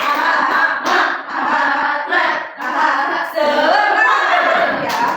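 A classroom of students performs the 'tepuk semangat' spirit clap, bursts of many hands clapping in a rhythmic, patterned sequence with short breaks between phrases, mixed with children's voices chanting along.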